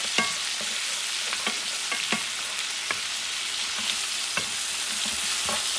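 Sofrito stirred with beef ribs in a pot for Puerto Rican-style rice, with a constant soft sizzle and repeated scraping clicks of a spoon against the pot at an uneven pace, close and fairly quiet, with no voices.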